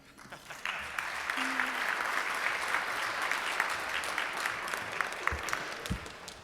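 Applause from attendees at a Rotary meeting, a moderate room full of clapping that holds steady and then tapers off with a few final claps.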